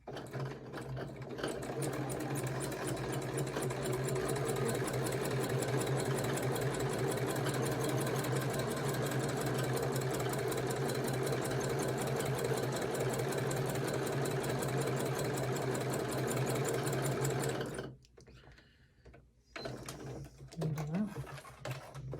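A sewing machine stitching a quilt block, a loud steady mechanical whir with rapid regular needle pulses for most of the time, then stopping and leaving light handling noises and a short voice.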